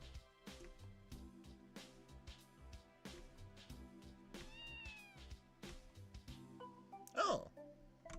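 A cat meows once in the video game The Legend of Heroes: Trails from Zero, a short clear cry near the end over looping game music with plucked notes.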